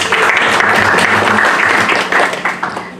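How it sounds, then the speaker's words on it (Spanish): A courtroom-hosted academic workshop audience at the Corte Superior del Callao gives a loud, dense round of applause to welcome a judge, holding steady before tapering off. "La escuchamos y la recibimos también con un fuerte aplauso."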